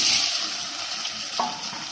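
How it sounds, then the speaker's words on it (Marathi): Potatoes fry in hot oil seasoned with asafoetida and turmeric, giving a steady close hiss with a brief sharper sizzle burst near the middle, with no talking. "त्याच्यात तेल टाकलेलं आहे त्याच्यात आपण थोडंसं हिंग टाकणार आहोत त्याच्यानंतर अर्धा चमचे हळद टाकणार आहोत आणि हे बटाटे आपण त्याच्यात सोडणार आहोत"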